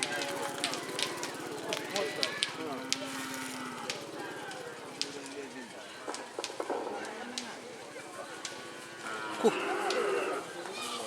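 Bulls at a Madurese kerapan sapi race on a field on Sapudi Island, with mooing and crowd noise over a busy outdoor mix, under steady talk and shouting.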